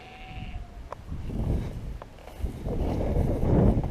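Sheep bleat a few times amid shuffling and movement in a barn on an abandoned farm, with the noise building toward the end.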